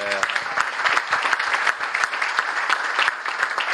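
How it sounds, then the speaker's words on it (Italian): Dense applause from an audience at a season presentation event for the 2023-2024 RBR sports club, steady crowd clapping filling the whole stretch without pause. "Applauso a Bedo!"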